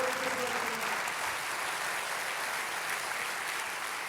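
A church congregation applauds steadily, a dense wash of many hands clapping at once that holds level for the full stretch, with a faint voice at the very start.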